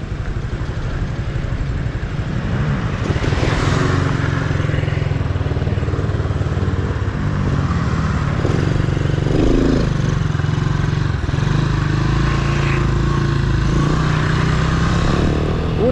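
A motorcycle engine revs and idles close by during a riding lesson on clutch and brake control, a steady rumbling drone with rising throttle swells and no voices.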